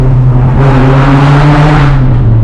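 A Nissan 240sx drifts on a wet street in the rain, its engine loud and close, revving up into a surging roar with tire and spray hiss before the pitch falls back, and no talking.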